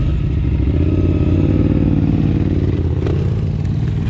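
KTM 950 motorcycles roar at close range on a mountain road ride, a loud, steady engine drone with a throaty rumble that holds throughout and never drops away.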